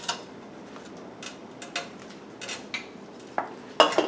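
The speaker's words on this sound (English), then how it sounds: "And just stir it a little." Onions and garlic stirred in two tablespoons of oil in a pot over medium-low heat for goulash, with a scattered series of close, sharp scrapes and clinks of a utensil against the pot over a faint background.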